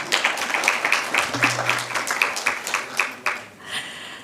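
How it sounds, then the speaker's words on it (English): Applause at a school district press briefing, a brief scattering of claps from a small group, moderate and somewhat sparse, with a voice briefly heard. "Let's give him a round of applause,"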